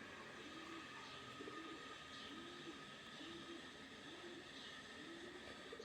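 Pigeons being fed bread coo in soft, repeated low calls at a steady rhythm over a constant hiss of background noise.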